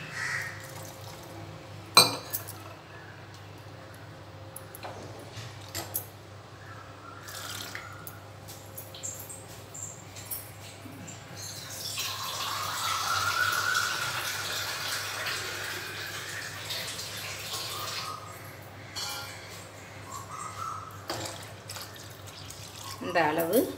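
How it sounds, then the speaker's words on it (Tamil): Water is poured into a simmering drumstick rasam to dilute it, making a soft splashing and trickling midway that lasts several seconds, with scattered kitchen clinks and knocks around it. "இப்போது எனக்கு எவ்வளோ ஜலம் வேணுமோ அவ்வளோக்கு பெருக்கிக்கணும், ரசத்தை அதிகப்படுத்திக்கணும்."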